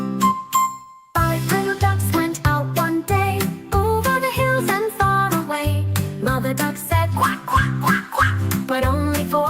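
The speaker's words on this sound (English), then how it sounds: "Mother duck said quack, quack, quack, quack" Cartoon-style duck quacks from a counting nursery rhyme about five little ducklings, repeated in a bouncy rhythm over a bright tinkling musical backing, loud and close with no talking.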